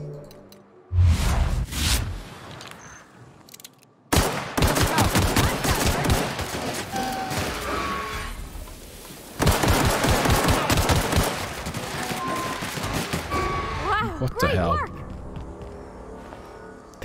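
Long sustained bursts of automatic gunfire in The Outer Worlds at Amber Heights on Supernova difficulty, two loud extended volleys broken by brief pauses, with a voice speaking quietly during the gaps.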